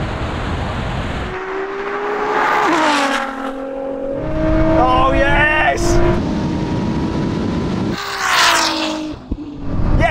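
Drag race launch of a Ferrari SF90 against a Nissan GT-R, loud engines revving and rising in pitch as they accelerate and pass close by, with excited voices shouting over the roar.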